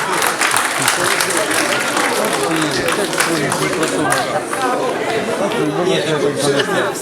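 Dense, sustained applause from an audience at a political campaign speech for local elections in Obukhiv, loud and close, with crowd chatter mixed in throughout.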